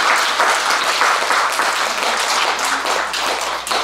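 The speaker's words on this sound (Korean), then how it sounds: "박수 한번 쳐주십시오." An audience at a Buddhist Dharma talk claps in sustained, loud applause, a thick even roar of many hands filling the room for the whole stretch without pause.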